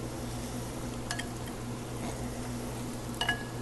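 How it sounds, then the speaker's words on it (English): Steady sizzling of homemade chicken nuggets frying in a pan, a low continuous crackle with a couple of brief clinks of utensils. "The frying chicken nuggets, beautiful."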